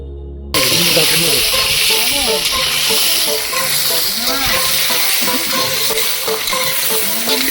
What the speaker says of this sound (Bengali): আলুটা ভাজা হচ্ছে কড়া করে